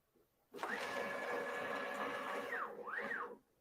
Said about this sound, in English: Let's run the self-test routine to check the status of your printer.